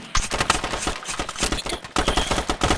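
Rifle fire in a video game cracks out in rapid, loud, close bursts of repeated shots with barely a gap between them.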